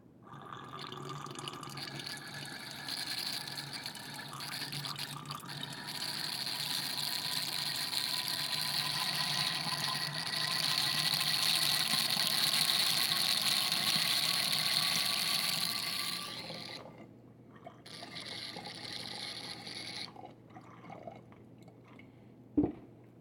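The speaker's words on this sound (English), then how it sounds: "I think it just sucks the air into the water and you can hear it." Water poured through a Venturi tube draws in air with a steady hissing, gurgling rush that builds gradually and holds, then cuts off, leaving faint trickles and a small knock at the end.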